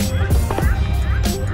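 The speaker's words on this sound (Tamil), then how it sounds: "வான் கோழி" A turkey calls at Sharjah Desert Park in the outdoor desert heat, giving a few raspy, honking cries over steady open-air background noise, with faint human voices in the distance.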